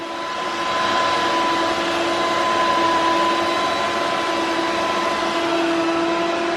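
Fans in a Lenovo System x3100 M5 server roar loudly at power-on, a steady broadband whoosh with a faint high whine, rising in the first second and then holding constant.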